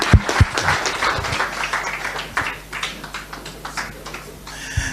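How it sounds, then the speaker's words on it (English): A crowd applauds after a Raila Odinga speech at a Pan-African gathering, dense loud clapping sustained across the whole stretch with scattered sharper individual claps. "Let's give him a round of applause."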